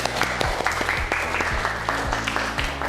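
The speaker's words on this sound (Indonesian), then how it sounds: "Tepuk tangan untuk kita semua." Applause from a classroom group at the close of a lesson discussion, dense, close clapping with sharp individual claps over a steady low hum.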